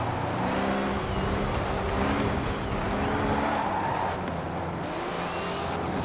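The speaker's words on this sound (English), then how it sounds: "He's got some good drifting." In a video game, a car drifts with continuous tire squeal and a droning, revving engine, steady and fairly loud throughout without speech.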